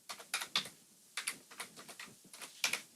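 Close, quiet keystrokes rattle across a computer keyboard in uneven bursts as values are entered into a form, with clustered taps separated by short pauses and no voice.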